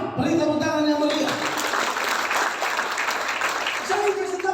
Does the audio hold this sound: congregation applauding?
yes